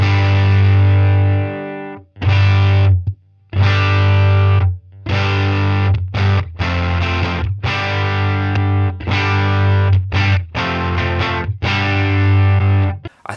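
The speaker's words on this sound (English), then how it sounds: "a little bit more ratty kind of sound to the Helix model, a bit more gain" An electric guitar played through a Line 6 Helix amp model with added gain gives loud, distorted chords and riffs with sharp stops between phrases, heard alone without talking.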